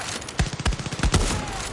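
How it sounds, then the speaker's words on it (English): Rapid gunfire in the video game Far Cry 6, a sniper rifle in play, with several sharp loud shots in quick succession over dense, noisy battle ambience. "Maybe I can shoot you with a sniper."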